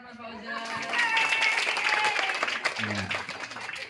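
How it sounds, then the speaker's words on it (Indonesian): Schoolchildren at a Quran study session at an elementary school applauding for a classmate, a short burst of clapping following a brief voice and overlapping with talk near the end. "Tepuk tangan Mas Fauzan"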